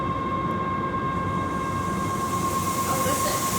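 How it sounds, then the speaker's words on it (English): Feed mill mixer motor running under load, a steady loud mechanical drone with a constant whine and broadband rumble, close and continuous with no talk. "You'll hear the motor that kick up because it's got a load on it"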